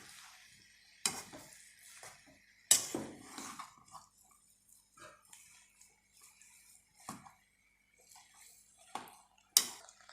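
Samosa potato masala being mixed in a pan, with sharp spoon clanks against the pan every second or two and quieter scraping and shuffling between them.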